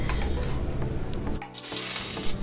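Two dried red chilies sizzling as they hit hot oil in a wok-style kadai, a sudden loud hiss that swells and holds steady after a quieter stretch of kitchen clatter.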